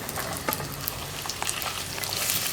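Pumpkin and raw plantain pieces are stirred in a hot pan, a steady close sizzle of frying with light scraping clicks from the spoon scattered throughout.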